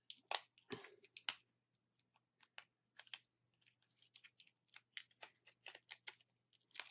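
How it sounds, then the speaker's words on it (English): Scissors snip and cut in a series of short, crisp slices, some quick in succession, close up and fairly quiet, with brief pauses between cuts. "Let's get my scissors."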